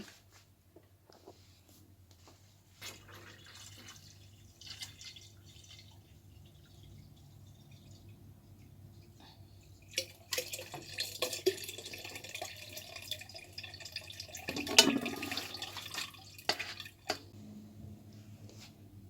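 Water is poured into a bucket while making black grape wine. It starts as faint drips and small splashes in a quiet room, then a louder, uneven rush of pouring water swells for several seconds near the end.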